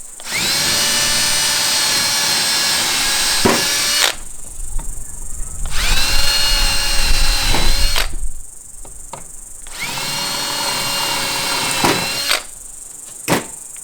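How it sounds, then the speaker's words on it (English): A power drill boring pilot holes into wood boards for a butcher block tabletop, three long high whining bursts of about four seconds each, loud and close, separated by brief pauses with small knocks. "we're going to pilot 3 holes"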